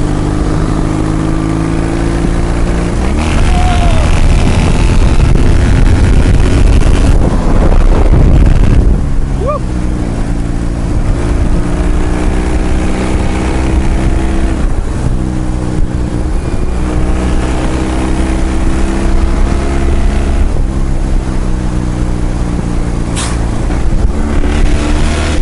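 A 65-year-old BMW R68 motorcycle runs at full throttle, its engine rising in pitch through several gear changes with brief dips between them, all under heavy wind rush from the helmet microphone.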